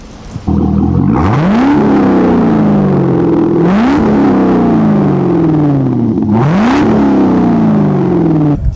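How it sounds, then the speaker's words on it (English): A Corvette C6 engine with a Billy Boat axle-back exhaust revs hard three times, each rev sweeping upward then falling back, with a deep, raspy exhaust roar close by. "take a look at this exhaust clip that Daniel and I installed"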